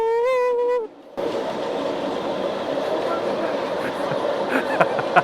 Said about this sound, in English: Finally riding the bullet train.